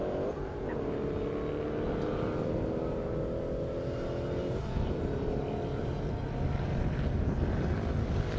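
A GT500 race car roars past on a half-mile airstrip drag event, its engine note rising steadily and shifting once midway, heard loud and continuous against a broad wash of wind and crowd noise.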